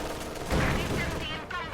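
Rapid bursts of gunfire crackle through a World War II strategy-game battle involving a T-70 tank, a StuG and conscripts, dense and overlapping, with a voice talking over the shooting.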